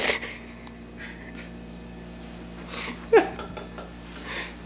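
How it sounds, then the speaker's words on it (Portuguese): Crickets chirp in a steady, unbroken drone throughout, with one brief faint knock partway through and no voices. "Grilos."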